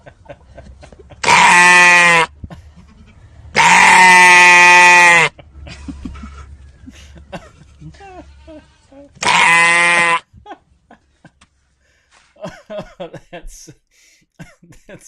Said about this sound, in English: That's what sheep sound like.